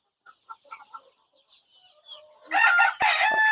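Soft clucks from country chickens nearby, then a loud rooster crow bursts in at the end, close and full.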